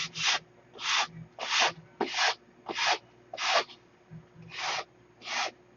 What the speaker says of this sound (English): So a few swipes with 30 grit to get it close.